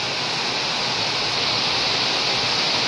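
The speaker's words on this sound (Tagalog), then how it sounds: "Lakas na naman ang ulan." Heavy rain pours down steadily on a house under construction, a dense, continuous hiss with no breaks and no voices.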